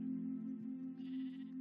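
A Minecraft sheep gives a long, steady, nasal bleat close by that holds its pitch for the whole moment, with a brief higher rasp partway through and no one talking.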